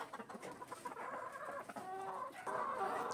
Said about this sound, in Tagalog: Mailap nga itong tornado hatch brood hen